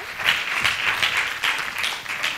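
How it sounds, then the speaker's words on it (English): A conference audience claps for a speaker coming on stage, producing a steady, moderately distant round of applause that holds throughout. "give Sharifa a round of applause"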